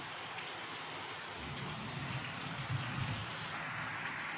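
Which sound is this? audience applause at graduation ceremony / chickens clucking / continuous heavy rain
continuous heavy rain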